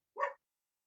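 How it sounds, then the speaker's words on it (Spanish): A single short dog bark, close and clear, standing alone against silence. "va a ladrar mi perro"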